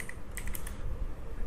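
Keys tapped on a computer keyboard, a few light separate clicks at a steady pace over a low background rumble, quiet and close.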